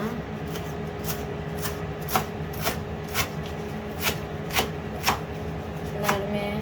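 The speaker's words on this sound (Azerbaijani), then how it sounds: "Cüvərtilərimi də doğrayıram." Greens being chopped with a knife on a board, giving a steady series of sharp, evenly spaced taps, roughly two per second, close by over a hissing kitchen background.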